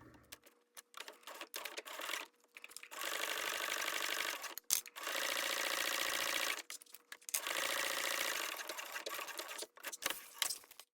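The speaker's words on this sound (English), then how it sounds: "We're now going to sew this exterior bottom seam using a 3/8 of an inch seam allowance" Sewing machine with a Teflon foot stitching a seam in clear vinyl, three sustained bursts of fast, even needle chatter close by, separated by short pauses with small clicks and handling sounds.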